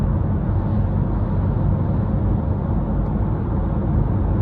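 Engine of a 2020 Vauxhall Combo van after a crank and bearings repair, idling or running with a steady, even low rumble, close and continuous with no talk.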